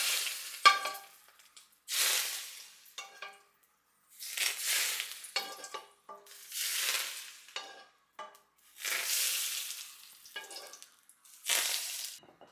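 Hot oil is poured over steamed fish topped with cilantro and onions and crackles in about six sharp bursts, each a loud hiss that fades before the next pour.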